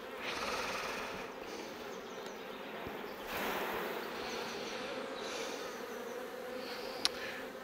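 A mass of honeybees drones steadily after a hive frame is shaken, a close, continuous buzzing swarm that swells and eases slightly, with a brief click near the end.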